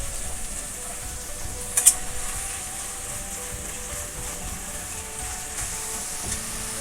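Sliced onions frying with salt in a pan for Kerala-style fish biryani, a soft continuous sizzle with one brief clink, no talking.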